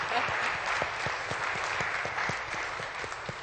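An audience applauding a government's support for clean, eco-friendly farms, a steady round of crowd clapping with a few distinct sharp claps standing out, moderately close and unbroken for the few seconds heard.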